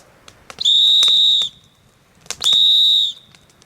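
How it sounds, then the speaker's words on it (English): A shrill whistle blown in two long blasts, each about a second, separated by a short pause, loud and close, as a help signal at a rustic log cabin deer hunting camp. "What you do is you blow your whistle"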